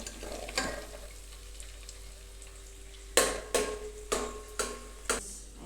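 Cream from cow's milk cooks down into ghee in a pan with a constant low frothy sizzle, broken in the second half by a run of five or six sharp metallic stirring knocks against the pan.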